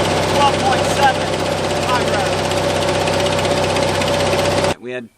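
A lawn tractor engine with a charging fault runs at high revs, a loud steady drone close by that cuts off near the end, a voice talking briefly over it.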